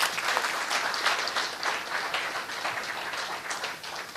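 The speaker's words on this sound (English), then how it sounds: "So let's give them another hand of applause." Dense audience applause for panelists at a potato industry forum, a steady wash of many hands clapping at a moderate distance, even in loudness throughout with no clear talk.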